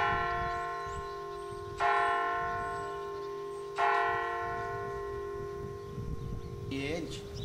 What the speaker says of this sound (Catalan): faran ressonar, entre altres, les campanes de l'església de Sant Miquel